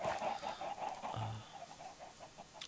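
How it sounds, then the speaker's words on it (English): Minecraft chickens cluck in a steady run of short, clipped calls, fairly close and moderately loud, with the sound alone and no talk. "God, we have so many chickens and eggs up here."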